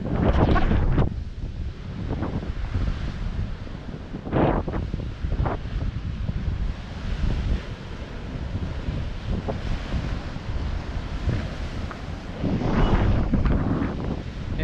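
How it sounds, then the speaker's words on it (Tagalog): Large waves crash against the shore in typhoon wind, heavy rumbling surges breaking repeatedly beneath constant wind roar buffeting the microphone. "Yan guys, sobrang laking alon guys."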